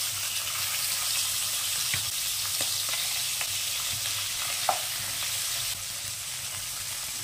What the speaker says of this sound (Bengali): তেল গরম হয়ে গেছে। এবার নুন হলুদ দিয়ে মেখে রাখা ট্যাংরা মাছগুলো দিয়ে দেব।